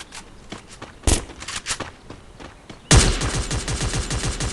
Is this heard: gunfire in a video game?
yes